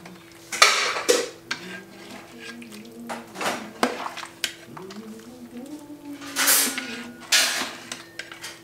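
A braised beef stew of beef chuck being stirred slowly in a pot, with a spoon clinking and scraping against the metal in scattered knocks. A voice talks in the background, and the utensil noise is moderately close.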